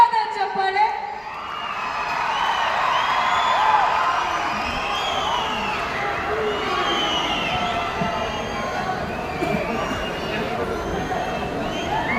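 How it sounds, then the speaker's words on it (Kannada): A festival stage audience at the Tumakuru Dasara celebration roars with loud, sustained cheering, whoops and crowd hubbub that swell early on and hold steady throughout. "ಜೋರಾದ ಚಪ್ಪಾಳೆ"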